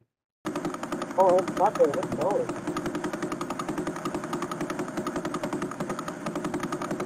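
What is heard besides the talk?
synthesized sound of a pulsar star from space probe data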